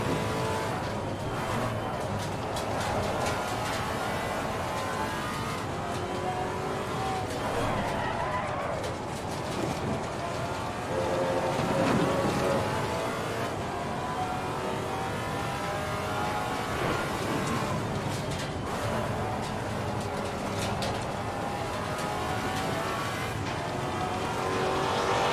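A GT4 race car lapping Brands Hatch in a sim racing game, its engine note rising and falling through gear changes with tyre noise beneath, steady and continuous at moderate level.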